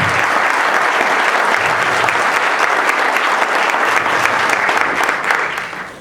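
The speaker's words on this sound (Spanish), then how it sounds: "Un fuerte aplauso." Sustained applause from the audience at an electoral law training course ceremony in Tijuana, a dense steady wash of many hands clapping that holds evenly for about six seconds before tapering off at the end.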